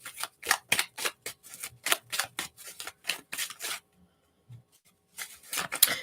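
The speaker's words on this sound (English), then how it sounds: "So I'm just shuffling, and these are the cards that are like facing up" Tarot cards are shuffled in quick, crisp riffling bursts, a close rhythmic series of papery flicks, pausing for a moment before a few more shuffles.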